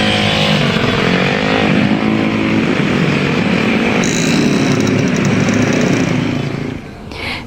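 Dense stream of holiday travellers' motorcycles on the Pantura road in Indonesia, engines droning and revving loudly and continuously as they pass close by, with a brief shift in tone near the end.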